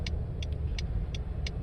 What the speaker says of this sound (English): do you like listening to the turn signal? I'm about to turn left off this exit.